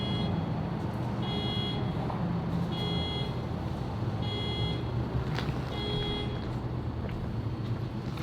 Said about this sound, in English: some idiot in the background does not know how to work their alarm, and it's just annoying